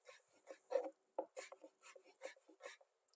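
A knife slices pickle into fine julienne strips on a board, a quiet close run of quick rasping cuts in an uneven rhythm, with nothing else heard.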